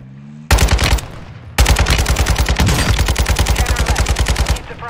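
Rapid automatic gunfire in Call of Duty Warzone 2.0, loud and close: a short burst, a brief pause, then a long sustained stream of evenly spaced shots that cuts off near the end.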